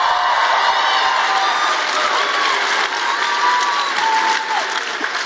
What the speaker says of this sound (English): How about a round of applause for you for getting out here on a Tuesday night?